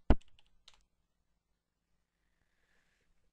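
Someone types the stop command for a Minecraft Bukkit server on a computer keyboard: a few quick, close keystrokes at the start, then near silence.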